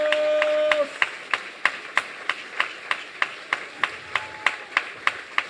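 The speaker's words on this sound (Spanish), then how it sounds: "aplaude al Señor sobre tu cabeza" A church congregation claps in unison to the Lord, a steady rhythmic beat of sharp hand claps, about three per second, following a short sung or held tone at the start.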